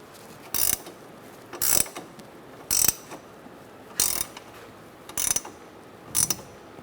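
A ratchet wrench tightens the 15 mm rear lower control arm nuts on a 2004-2009 Mazda 3 in six short bursts of rapid clicking, each about a quarter second long and spaced roughly a second apart, close and clear with no talk.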